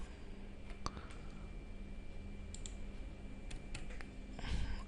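A computer keyboard is used to type a command, giving scattered light key clicks and taps over a quiet background hiss, with a slightly busier cluster of keystrokes at the end.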